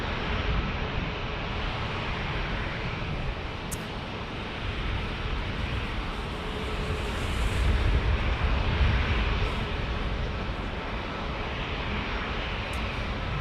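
A jet airliner in special livery rumbles steadily at San Diego airport, a broad continuous engine roar that swells slightly midway before settling, heard at moderate distance with no voices.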